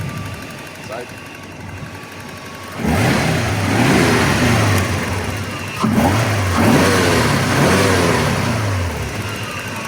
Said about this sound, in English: the way to do it is to rev the engine and make sure it rocks.